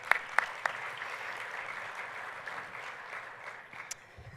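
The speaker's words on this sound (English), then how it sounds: "a big round of applause" Conference audience applauding at a muscular dystrophy advocacy event, a steady moderate wash of clapping across the room with a few sharper nearby claps, no voices over it.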